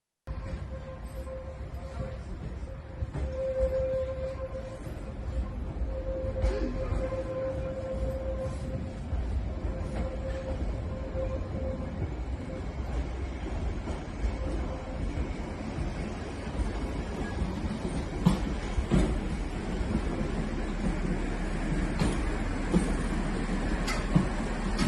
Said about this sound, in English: the train broke down and limped through the station